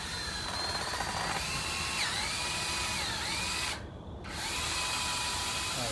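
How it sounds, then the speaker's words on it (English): A power drill drives screws into pocket holes in wood for a farmhouse daybed, its whine rising and falling in several short bursts with a brief pause near the end. "She's going to be helping me drive some of these screws in the pocket holes"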